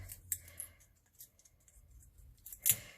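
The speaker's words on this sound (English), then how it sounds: "So I kind of just snip off pieces." Scissors snip sticky pieces off a pine cone for a fall craft. A few faint, close crisp cuts come at the start and a louder one near the end, with quiet pauses between.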